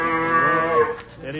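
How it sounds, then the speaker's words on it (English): A cow moos as a radio comedy sound effect on a 1947 show, one long, close, drawn-out low bellow with a falling pitch, heard alone without talk. "Watch me milk this cow right here, Jonathan."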